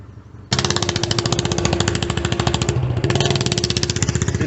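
Motorcycles hurry along a hill road near Chakrata, Uttarakhand: a loud, dense engine rattle with a rapid pulsing beat kicks in abruptly after a short quieter lead-in and holds close and steady, with a slight shift in pitch partway through.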